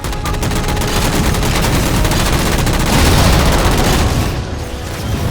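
Dense gunfire in the video game Halo 4, loud sustained bursts of automatic weapon fire with booming impacts as jammers are shot down, continuous and close with no pauses.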